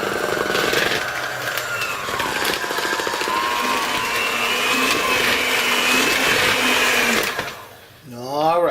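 An electric mixer whirs loudly and continuously through cornstarch cookie batter, its motor pitch wavering as it works, then cuts off near the end as a voice speaks.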